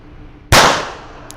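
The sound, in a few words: North American Arms 22 mini revolver shots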